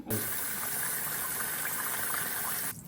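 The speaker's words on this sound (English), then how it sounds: "you just pour it off the top. Make sure no rice fall out" Water poured off washed rice pours out in a steady, rushing stream, close and fairly loud, for a few seconds before stopping abruptly.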